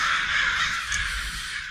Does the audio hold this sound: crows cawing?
yes